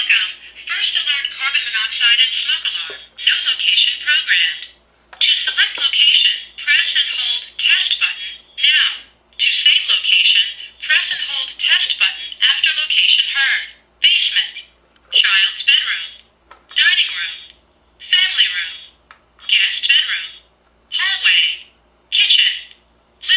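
A First Alert PC1210V talking smoke alarm, just remounted on its plate, gives loud, close, piercing bursts of repeated beeping mixed with its spoken voice messages, in rhythmic pulses that grow shorter and choppier toward the end.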